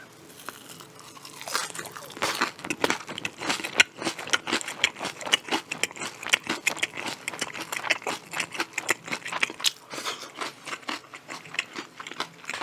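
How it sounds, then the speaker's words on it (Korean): Loud, crisp crunches and chewing of Kyochon soy-glazed fried chicken repeat in quick, irregular bites close to the mic, with the crispy batter crackling throughout. "튀김이 씹는 맛이 괜찮아요 소리 한번 들려드릴까?"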